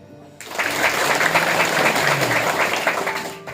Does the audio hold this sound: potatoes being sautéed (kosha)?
no